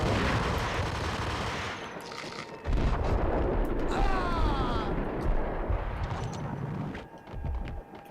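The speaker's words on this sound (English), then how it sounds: "It's alright, we got a grenade launcher" Grenade launcher blasts in the Max Payne video game: a loud, dense burst of booming detonations and crackling gunfire-like impacts, sustained over several seconds with a brief lull before a final heavy blast.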